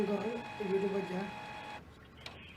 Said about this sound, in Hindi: ये नॉर्मल प्रिंटर की आवाज़ है